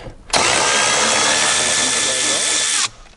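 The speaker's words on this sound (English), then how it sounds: "Our little ratchet, make sure we're loosening" A ratchet loosens bolts during a cabin air filter job on a 2017-2020 Ford Super Duty: a single steady, loud mechanical whir lasting about two and a half seconds, starting and stopping abruptly, close up with no speech.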